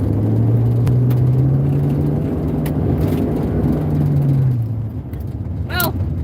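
A car with an old inline-six engine on big fat tires holds a steady, loud drone as the tires spin, then the revs drop off. A faint squeal follows near the end, and a voice speaks briefly.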